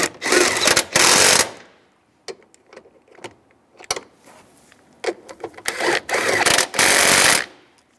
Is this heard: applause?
no